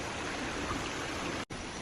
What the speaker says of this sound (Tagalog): Ito yung baha.